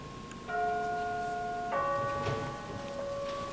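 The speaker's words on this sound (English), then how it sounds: "Doorbell, though." A two-tone doorbell chimes, one bright note followed by a lower one, ringing out clearly and then fading over a quiet background.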